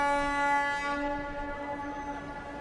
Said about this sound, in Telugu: ట్రైన్ ఆగిపోయింది బాబు.